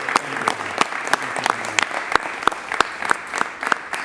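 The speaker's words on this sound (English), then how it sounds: "I'd really like you to give Benji Wimberly a nice round of applause." Applause at a bail reform bill signing ceremony in Paterson, New Jersey, with distinct individual claps standing out sharply over a softer spread of clapping from the gathered audience.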